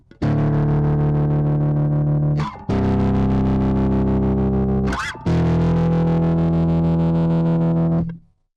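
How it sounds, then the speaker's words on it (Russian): Bass guitar played through a BOSS GT-1B processor with a Gallien-Krueger preamp model, bass overdrive and tremolo, three long sustained distorted notes with a pulsing wobble, loud and alone. "Вот таким вот образом звучит пока наш пресет."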